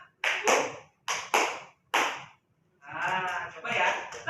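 A class claps a patterned rhythm in short groups: a few sharp hand claps, a pause, then a longer run of quick claps, close and loud.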